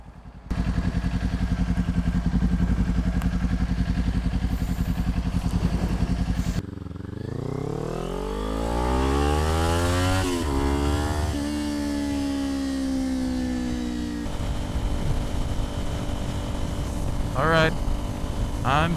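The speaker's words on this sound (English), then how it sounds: "I'm taking the Ninja 400 on perhaps one last spirited ride" A Kawasaki Ninja 400 motorcycle engine drones at a steady idle, then revs and climbs through several gears with rising and falling pitch sweeps while riding, loud and close, with wind noise and a voice talking over it in places.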